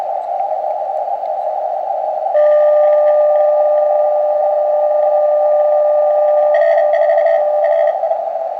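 Morse code CW signal received on an Elecraft KX2 radio, a steady tone with keyed bursts rising above constant loud band hiss, no voices.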